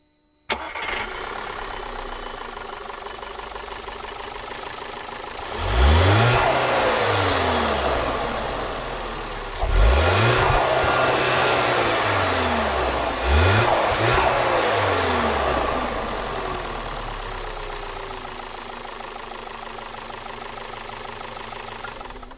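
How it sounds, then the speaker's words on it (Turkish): A Volkswagen Passat 1.8 TSI petrol engine starts, settles into idle, then revs sharply three times, each rise and fall clear and close, before easing back to a steady idle. "Şimdi bir de motor sesini dinleyebiliriz."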